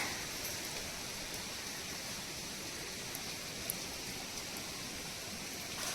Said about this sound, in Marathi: खजनामध्ये एकदम पाऊस पडतो थोडा थोडा